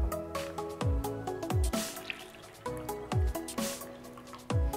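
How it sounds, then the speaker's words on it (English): Cashews and water are mixed in a kitchen for tomato bisque, giving soft wet drips and squishy splashes in an irregular rhythm, close and fairly quiet, with no talk. "we're gonna go ahead and mix the cashews and the water together"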